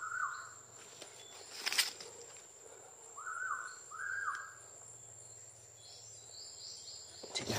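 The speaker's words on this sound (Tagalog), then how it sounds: "May mga ibon pa oh." Several short warbling bird calls sound at moderate distance over a steady high insect buzz, with a brief rustling knock near the start.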